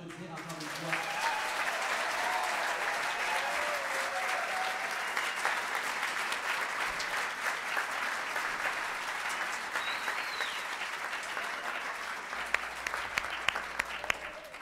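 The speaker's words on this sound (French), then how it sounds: "Est-ce qu'on peut les applaudir encore une fois?" An audience at a Christmas program applauds steadily and loudly for the whole stretch, a dense wash of clapping from many people.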